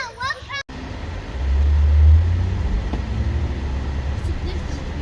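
Car cabin on the drive home after a boys' outing, with a steady low engine and road rumble that swells briefly in the middle; children's voices are faintly heard early on.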